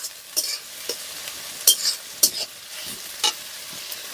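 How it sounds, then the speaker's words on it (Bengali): Onions frying in a pan for a country chicken curry, soft steady sizzle broken by sharp scraping stirs of a spatula at irregular intervals, close up with no talking. "পেঁয়াজটাকে এবারে আমি ভালো করে ভেজে নেব, বাদামি কালার হওয়া পর্যন্ত"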